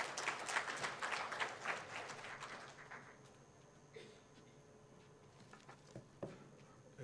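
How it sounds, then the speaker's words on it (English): Conference attendees applaud to welcome a speaker, a short burst of moderate clapping that quickly thins out to a few scattered claps and faint room noise by the end. "Dr. Pramod, welcome him with a round of applause, please."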